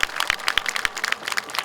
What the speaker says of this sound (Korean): 인권활동가들에게 우리 큰 박수를 함께 보내주셨으면 좋겠습니다.